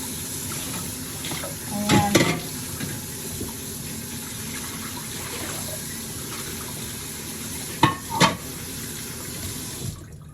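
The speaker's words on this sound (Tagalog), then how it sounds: "Ay, maglilinis muna ng pinggan." Water runs steadily from a tap into a sink, with a couple of clinks of dishes being handled before the flow stops.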